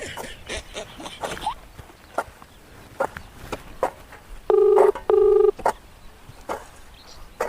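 A phone number is dialed on a handset, with two clear keypad tones near the end, set against ambient village sounds, footsteps and faint background chatter.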